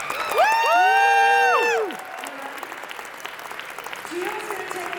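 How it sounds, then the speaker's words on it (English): Brunch audience starts applauding after a long, loud whoop or cheer. Steady clapping follows, moderately loud and close, with scattered voices near the end. "I want to hear everyone give a round of applause for Gio."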